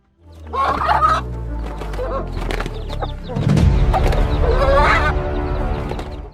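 A mother hen clucks and squawks loudly while fighting off an eagle, harsh agitated calls in bursts with a dense scuffling commotion underneath.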